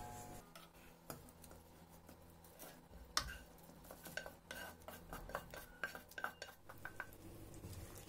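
Fried vegetables are stirred into a pot of soup broth, with faint metallic clinks and scrapes of a spoon against the pot and soft liquid swirling, quiet and irregular.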